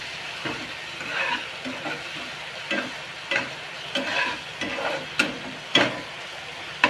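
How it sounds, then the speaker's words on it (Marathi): Masala paste (vaatan) roasting in a pan for a Maharashtrian masala dish, with a steady sizzle broken by repeated short scraping stirs of a spoon, close and fairly loud, no talking. "वाटण चांगला भाजून घ्यायचा."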